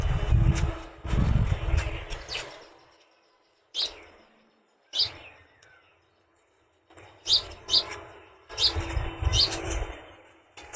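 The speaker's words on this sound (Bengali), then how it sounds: "ছাদে আসলে এই পাখির ডাক খুবই ভালো লাগে" Small birds on a rooftop garden give sharp, scattered chirps and tweets in bursts separated by quiet pauses, with some low wind or rumble at the start; there is no speech.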